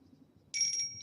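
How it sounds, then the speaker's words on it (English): A phone rings with a bright electronic tone that starts abruptly halfway through and holds steadily, fairly loud over a quiet low murmur in the background. "And Kuru, let's mute that phone."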